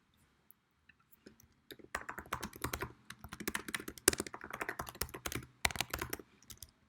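Rapid computer keyboard typing runs in close, crisp bursts of clicking with short pauses, fairly near and moderately loud, with no voices.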